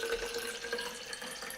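Water trickles steadily into a bowl already holding saffron liquid, a soft continuous pour with light splashing, close and fairly quiet.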